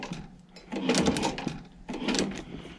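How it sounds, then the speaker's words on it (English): An industrial sewing machine stitches a leather tab on a designer tote bag strap, running in two close mechanical bursts separated by a short pause, with no speech. "Now obviously we're only stitching just this tab right now."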